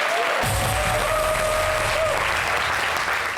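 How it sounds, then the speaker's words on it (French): A live studio audience breaks into loud, sustained applause that starts abruptly and holds steady, with a faint voice briefly under the clapping at the start. "On applaudit pour Magnifique."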